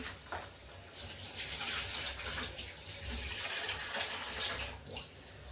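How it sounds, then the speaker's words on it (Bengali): Tap water runs steadily into a sink or bowl while lentils (dal) soak, a continuous splashing rush with brief shifts in flow and no voices. "ডালটা ভিজাইলাম"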